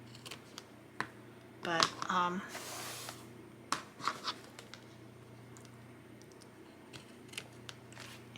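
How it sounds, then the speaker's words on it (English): Scissors trim excess lace off a handmade journal card, giving a series of close, crisp snips and light paper rustling, with a brief spoken word partway through. "I'm wanting to trim this excess lace off of here"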